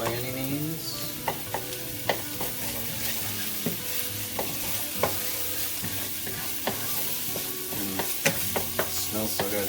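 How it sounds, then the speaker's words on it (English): Minced garlic cooking in a pan, a steady sizzle of oil with intermittent clinks and scrapes of a utensil stirring, close and moderately quiet, with a low background tone. "You just want to cook the garlic for a minute."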